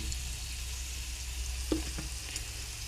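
Turmeric and spices fry in hot oil with a steady low sizzle and hiss, joined by a couple of faint stirring taps near the middle, all quiet and close with no talking.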